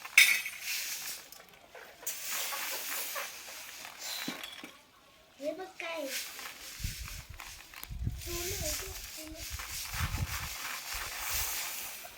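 Dishes and steel utensils clink and scrape as they are scrubbed at home, with intermittent metallic knocks and rattles alongside people talking.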